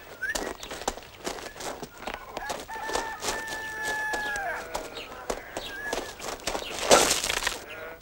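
Chickens cluck and a rooster crows in a village yard, with scattered footsteps and rustling. A brief louder burst comes near the end, and faint voices sit in the background.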